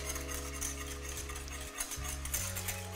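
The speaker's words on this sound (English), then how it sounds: "turn it down to the lowest setting, give it a whisk, and just allow it to simmer there" Maple sriracha sauce simmers in a pan while a whisk stirs it, a steady scraping and swishing over a constant background hum, with no talking.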